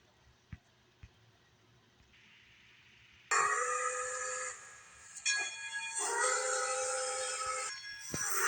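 A toy wooden train rolls in on its track, a loud rattling rumble that arrives suddenly after a few soft taps and keeps going close by, with no talk over it.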